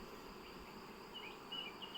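A steady, faint hum of many honey bees buzzing together at a hive, continuous and without talk.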